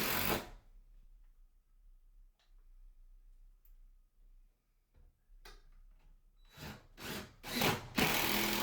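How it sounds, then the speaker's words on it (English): A driver putting screws into laundry room shelf brackets: a short burst at the start, a quiet pause with faint handling, then several loud, close whirring bursts near the end, with no talking. "I'm just getting all the screws put in, not completely tightened yet"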